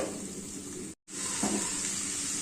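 Spices drop into cooked onions in a pan for Rayalaseema-style guggillu, a continuous close sizzle broken by a split-second gap of silence.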